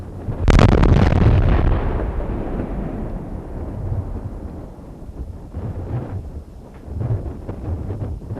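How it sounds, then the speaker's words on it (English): Full-scale offshore oil rig module mock-up in a hydrocarbon explosion test, one powerful deep blast that booms and rumbles, then a long decaying roar with wind buffeting and scattered crackles. "A full-scale mock-up of an offshore installation module was built to carry out the explosion"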